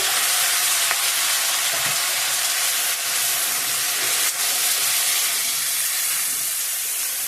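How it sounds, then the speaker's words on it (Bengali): Ginger frying in hot oil in a pan, with tomato, eggplant and potato being added, makes a loud, dense, unbroken sizzle and hiss up close, with faint stirring and no speech. "ভাজা ভাজা হয়েছে সবজিগুলো দিয়ে দেবো টমেটো বেগুন আলু মিষ্টি গুলো"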